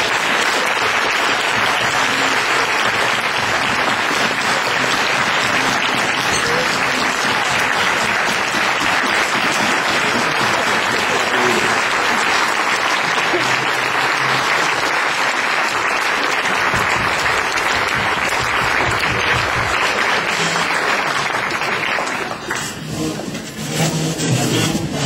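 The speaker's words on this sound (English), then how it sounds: "I'd like for us to give a round of applause to the Haiti team" A roast audience gives a long, loud, dense round of applause for a mission team, sustained evenly for over twenty seconds before tapering off abruptly near the end.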